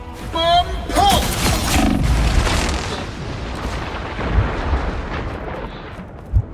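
Bomb explosion in Valorant, a heavy booming blast with a long rumbling tail that fades out, preceded by brief game effects and a voice, with a few smaller thuds afterward.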